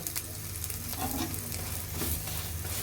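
A tomato paratha fries in a pan after being flipped, with a little extra oil added, giving a steady, close, gentle sizzle and crackle throughout with no talking.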